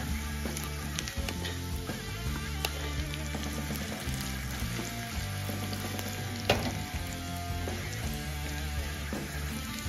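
Grated ginger fries in a pan of hot oil for a dadhojanam tempering, producing a constant close sizzle over steady background music, with no speech.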